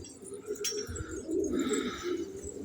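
Soft, low pigeon coos repeat in a gentle rolling rhythm, fairly faint, with a brief higher chirp early on.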